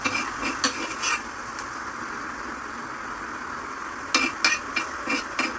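Garlic sizzling gently in a pan on residual heat after pan-frying a whole fish, a soft continuous hiss with clusters of light utensil clinks at the start and end, close and without talk.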